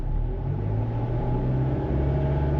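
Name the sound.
Lexus engine revved to about 2,000–2,500 rpm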